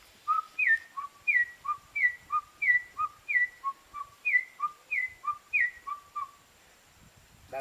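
Whistled imitation of a wild chicken call, a steady run of about fourteen paired two-note phrases, a high note dropping to a lower one, repeated evenly and heard alone, ending in a short pause.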